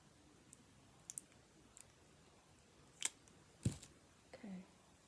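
Small scissors snip a semi-cured gel nail strip, a Dashing Diva press-on in a cheetah print, giving a few sharp, close clicks spaced apart in a quiet room.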